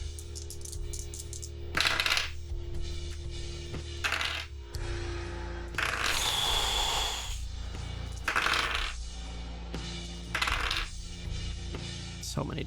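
Dice rolled during a tabletop role-playing game, a series of sharp clattering tumbles on a hard surface with short pauses between rolls, close and fairly loud.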